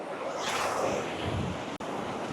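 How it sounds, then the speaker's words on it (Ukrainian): Sea waves at Langeron beach in Odesa on a September morning, a soft continuous wash of surf with some wind noise on the microphone, moderately quiet and without voices. "Такі хвилі."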